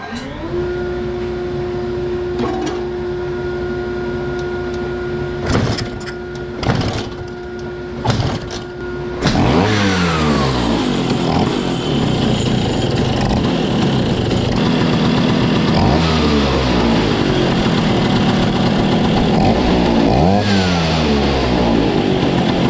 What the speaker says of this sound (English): turn on my homemade fume extractor and start the bike. Key on, choke out.